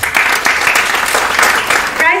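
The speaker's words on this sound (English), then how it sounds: "The convener of the function, Dr. Madhukar Dalvi, deserves a huge round of applause." An audience at a school prize distribution function applauds the convener, a dense, even wash of clapping that stays loud throughout, with a voice briefly heard near the end.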